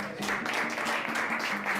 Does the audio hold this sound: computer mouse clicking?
no